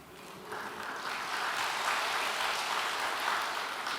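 Moderate audience clapping at a church service, swelling after a quiet start into an even, continuous patter of many hands.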